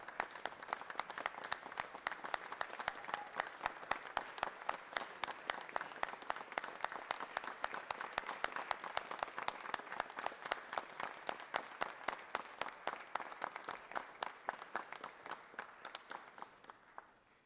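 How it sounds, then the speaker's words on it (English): Rhythmic, sustained applause from a crowd in the Georgia Senate chamber, dense, even clapping that carries on for many seconds before tapering off. "Let's give them a big round of applause."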